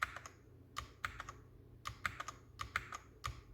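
Keys pressed on a white Royal Kludge RK71 mechanical keyboard, a series of crisp separate clacks in short bursts with small pauses, close and fairly quiet, with no voices.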